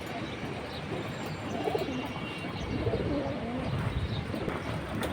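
Female pigeons, including chila, khaki, bagha khaki, naptas and pankhi breeds, at a pigeon market, giving soft repeated cooing and occasional chirps over a low, busy background.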